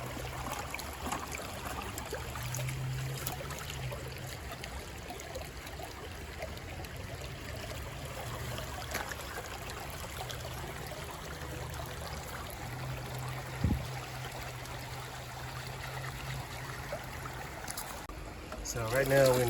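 Creek water flowing steadily during gold panning on a hot summer day, a continuous close rushing babble with a brief splash near the end and no voices over it.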